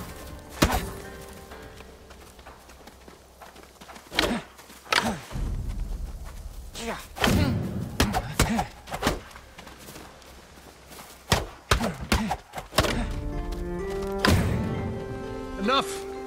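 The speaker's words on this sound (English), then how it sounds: "Break my block with a heavy attack," Sword strikes in a Ghost of Tsushima duel, a heavy attack breaking a block: sharp, loud wooden-sounding thunks and clashes arrive in scattered bursts, with game voices and ambience between them.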